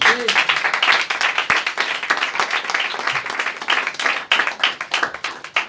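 A church congregation claps and applauds for about six seconds, a dense close patter of many hands with a voice speaking over it.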